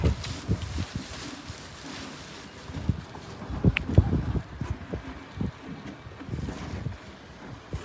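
Wind gusting across an open rooftop, rough low buffeting rumbles that rise and fall irregularly against the microphone, close and fairly loud throughout.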